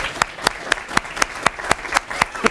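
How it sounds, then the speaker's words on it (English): Applause at a swearing-in ceremony comes as a steady run of individual hand claps, evenly spaced about four per second, close and fairly loud, with a faint murmur of voices underneath. "Can you give a round of applause?"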